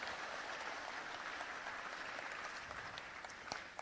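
Steady applause from the audience at a city council meeting, an even wash of many hands clapping at a moderate distance, with a few sharper individual claps near the end.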